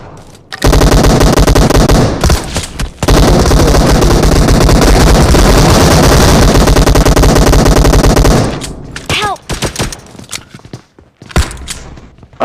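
Rapid, loud gunfire from a PUBG Mobile match in a shotgun-and-pistol challenge, a dense sustained volley of shots for several seconds, then a short break, then more scattered shots and thuds near the end.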